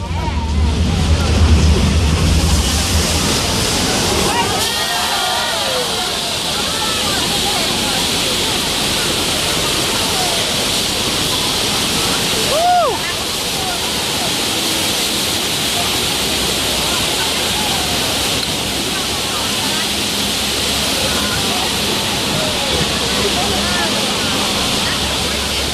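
Rushing flood water effect on the Universal Studios Hollywood studio tram tour, a loud, steady broadband roar of water that holds for the whole stretch, with a brief surge near the middle and faint crowd sounds beneath.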